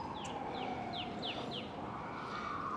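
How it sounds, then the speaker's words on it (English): Birds chirp in a series of short, quick downward-sweeping notes against steady outdoor background noise in Manhattan, New York City, with no talking. "Now listen to the birds."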